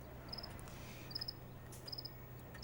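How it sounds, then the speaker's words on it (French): Crickets chirp in short, high, repeated trills, a few evenly spaced bursts over a steady low background hum. "J'aime les grillons. J'en ai toujours. J'adore ce son."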